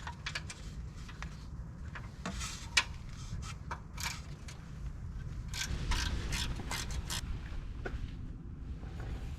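A 10 mm bolt holding a brake line and sensor wire on a Jeep JK is loosened with a ratchet: rapid clicking pawl bursts in irregular runs, close and fairly quiet.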